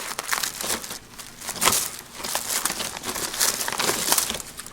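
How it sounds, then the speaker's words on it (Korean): Plastic wrapping on a 25 kg bag of sulfur crinkles and crackles continuously as it is pulled open, close and fairly loud, with uneven bursts of rustling and no talking. "비닐되어 있는 걸 풀러서"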